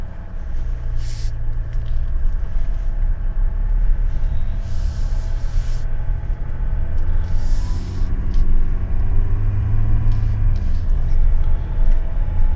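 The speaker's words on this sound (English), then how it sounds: "Truck's fully warmed up," A Ram EcoDiesel pickup loaded heavy with tires and freight, fully warmed up, pulls away with a steady, loud low diesel rumble, alone without talk.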